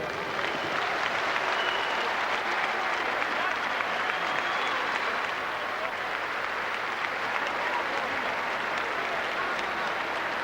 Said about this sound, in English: A round of applause for the game challenge of Jose Badillo